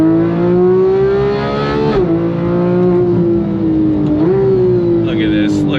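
A 2015 Porsche 911 GT3 pulling hard in second gear, its engine a loud, close, steady howl that climbs in pitch with a couple of brief dips, and a faint voice near the end.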